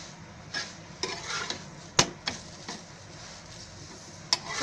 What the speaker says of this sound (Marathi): आता असे सर्वून भाजून घेते